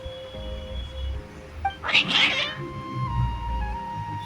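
Cats meowing in the video game Genshin Impact: one loud drawn-out caterwauling meow in the middle, with fainter mews around it over a soft musical background and tonal game sounds.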